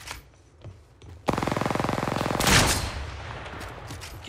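Enemy automatic gunfire in the Apex Legends battle royale game, a close, loud rapid stream of evenly spaced shots lasting a couple of seconds, then fading into echoing rumble.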